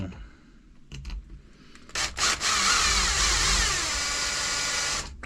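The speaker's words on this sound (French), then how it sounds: "Ok, je vais percer là, ça va tomber pile poil au milieu." A power drill bores a hole through a Hobao GTB RC car body, starting with a few short clicks and taps before a loud, sustained high whine and grind that runs for about three seconds.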